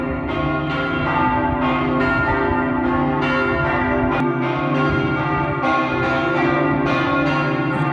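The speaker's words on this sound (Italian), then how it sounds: "mentre suonano le campane" Church bells of Gemona Cathedral ring out in a steady, repeating peal, bright metallic strikes overlapping with long humming resonance, loud and close, no voices.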